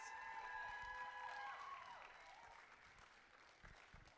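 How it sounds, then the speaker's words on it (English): Applause from an audience at a dance performance, a broad wash of clapping that slowly fades, with some music tones over the first seconds. "Applause, yes."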